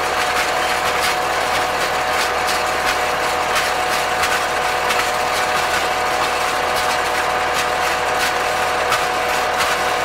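Twine-wrapping mechanism of a CLAAS 46 baler running during hay making, a close, loud continuous mechanical whir with rapid ratcheting clicks over a low engine drone.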